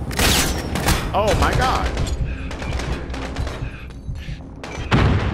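Rapid bursts of gunfire from a Call of Duty Modern Warfare match, loud and close, with a short exclaimed voice over the shooting.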